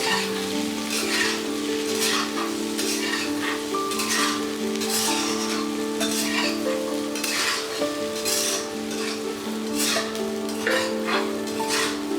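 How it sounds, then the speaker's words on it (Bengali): Boiled chickpeas fry in hot oil in a pan, giving a steady, close crackling sizzle with a bright, rain-like hiss throughout and no voice. "তেলটা গরম হলে সিদ্ধ করে রাখা ছোলাগুলো আমি এর মধ্যে ভেজে নেব"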